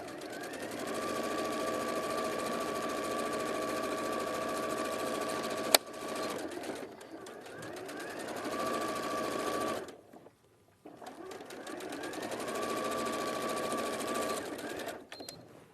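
Sewing machine zigzag stitching the edge of a cushion, a steady rapid mechanical chatter that runs in bursts with a couple of short pauses, fairly close and even in level.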